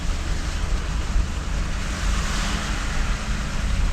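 A car pushes steadily through deep flood water on a damaged Washington road, producing a loud, continuous rushing and churning wash with a low rumble underneath.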